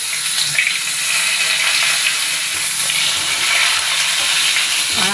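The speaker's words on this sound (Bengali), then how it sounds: "তেল দিয়ে আলুর দমের আলুগুলো আমি ভেজে নেব" Raw potato pieces for aloo dum frying in oil in a kadai, a loud, steady, close sizzle that runs without a break, with a brief clatter near the end.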